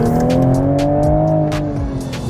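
A 2024 Toyota GR Supra MK5 with a six-speed manual accelerates hard, its engine note loud and close, rising steadily with strong harmonic drone and brief sharp bursts layered on top.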